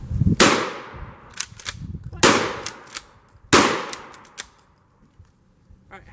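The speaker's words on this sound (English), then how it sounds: ".20 gauge versus whoopee cushion." Three loud 20 gauge shotgun blasts fired at a giant whoopee cushion, spaced about 1.5 seconds apart, each with a sharp crack and long decaying tail, followed by smaller clattering echoes.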